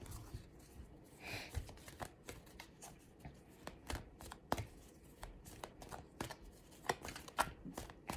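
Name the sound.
playing cards being shuffled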